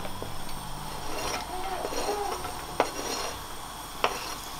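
Food going into a pan with olive oil while making breakfast at home, soft scraping and metal pan contact, two sharp clinks of utensil on pan, faint sizzle underneath.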